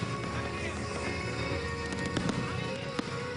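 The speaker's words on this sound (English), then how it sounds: "Ed O'Keefe is there in Wilmington, Delaware, with the fireworks as his backdrop." Fireworks burst over the 2020 Democratic National Convention celebration in Wilmington, Delaware: a steady wash of crackling pyrotechnics with sharper pops near the end, heard from a distance against a dense, noisy outdoor background.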